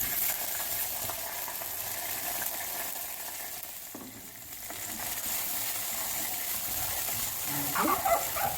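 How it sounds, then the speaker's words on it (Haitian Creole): Watercress and parsley oil being stirred in a pot, a steady soft sizzle and hiss with faint scraping, quiet and continuous, with a brief clink near the end. "On va brasser jusqu'à ce que l'eau a fini là-dedans"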